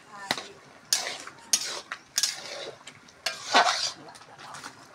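Bottle gourd cooked with mung dal is stirred in a pot. About half a dozen separate scraping strokes of a utensil against the pot come close up, with short pauses between them.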